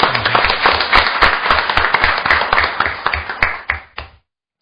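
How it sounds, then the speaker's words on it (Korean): An audience at a Korean policy forum on unfair construction subcontracting claps loudly and steadily to welcome an arriving lawmaker, the dense applause continuing for about four seconds before stopping abruptly. "박수로 환영하겠습니다."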